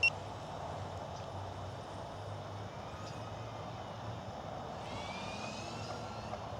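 A DJI Avata 2 FPV drone flies at full speed a few feet above the ground, giving a continuous faint whirring drone of propellers with a rising whine near the end; no speech.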